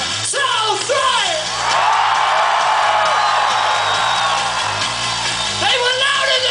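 A rock concert crowd yells, whoops and cheers in a loud, sustained roar that fills the space, with shouting voices rising out of the din throughout.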